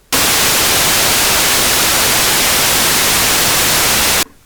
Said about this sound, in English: And here's the noise wave.